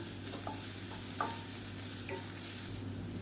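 Onions with ginger garlic paste sauté in a pan with a steady, close sizzle, stirred now and then so a few light scraping clinks rise above the constant frying hiss.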